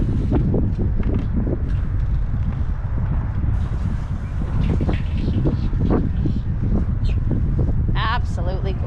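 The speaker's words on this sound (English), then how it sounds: "It's so windy up here." Strong wind buffets the microphone aboard a Hunter sailboat under refit, a continuous low roaring rumble with gusty swells throughout while a person talks over it.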